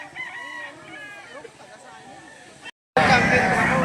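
A rooster crows at a chicken auction market amid chatter and crowd noise; a short cut of silence precedes a louder burst of market bustle and voices.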